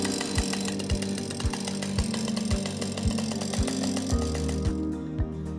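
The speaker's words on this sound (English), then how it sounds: "When starting up the chainsaw engine, place it on the ground and pull the starter rope." A chainsaw engine starting up on the ground runs roughly, with a steady mechanical drone and a regular thumping pulse about twice a second. It is close and loud, with no talk.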